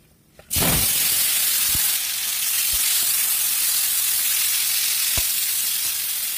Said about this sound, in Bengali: একটু ভালো করে ভেজে নেবো কাঁচকলাগুলো